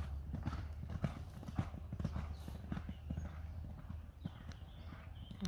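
Horses trotting on an outdoor track of roughly 400 metres per lap, their hooves clip-clopping in a steady, dense rhythm close by, with faint murmurs in the background.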